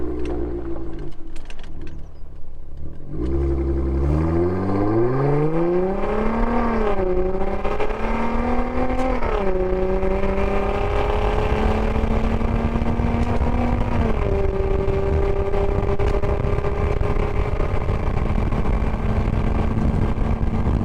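A Jeep Wrangler JL fitted with a Flowmaster high-clearance cat-back exhaust starts, then accelerates through several gears, the engine note climbing and dropping with each shift into a steady loud drone under sustained wind and road noise.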